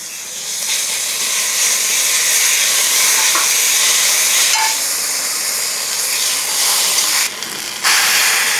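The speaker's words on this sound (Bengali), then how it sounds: "এইবারে দিয়ে দেবো আমরা কাঁচা লঙ্কা" Green chillies tossed into hot oil for a Bengali pomfret curry give a loud, steady sizzle and hiss that runs unbroken, with a brief dip near the end.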